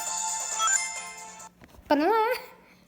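Chiming electronic menu music plays from a Nintendo DS Lite handheld console, a bright sustained tune that breaks off and is followed by a quick warbling rising jingle, moderately quiet.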